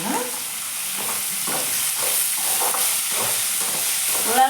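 Tomatoes are stirred in a hot frying pan, a steady sizzle with repeated scraping strokes of the spoon, close and alone.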